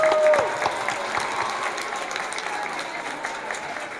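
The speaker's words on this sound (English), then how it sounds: "Let's give them a round of applause." A round of applause from a school audience for student finalists at an awards event, moderately loud clapping that starts right away and continues evenly for several seconds.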